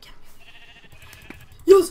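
A sheep in a video game lets out a short, loud bleat near the end, after a stretch of quiet game sounds and soft footsteps.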